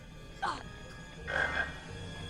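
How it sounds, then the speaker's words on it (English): Frog croaks from the PC video game Harry Potter 2, two short game-audio croaks about a second apart over a steady low background hum. "Get the frog, get the frog!"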